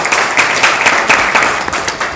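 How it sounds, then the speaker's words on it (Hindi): An audience at a Hindi poetry recital claps steadily and loudly for about two seconds, a dense wash of applause with rhythmic surges as if clapping partly in time. "मुझे आदेशित कर दें अपनी तालियों से"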